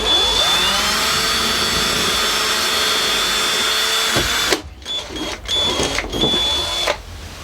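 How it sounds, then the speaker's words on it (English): A power drill bores into a wall with a steady, loud whining drone for about four seconds, then stops and restarts in several short bursts, close by and with no talking. "Just stick the envelope to the wall and then drill through."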